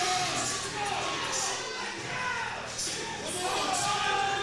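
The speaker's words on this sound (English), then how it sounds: "Lots of great energy coming from the crowd right now." Crowd at a powerlifting meet, a sustained roar of cheering, whooping and yelling that swells and dips over a few seconds, dense and moderately loud.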